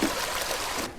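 Water is dumped from a full wet vacuum in the DrainSim drain-cleaning game, a brief, close, steady pouring rush lasting about a second and cutting off sharply.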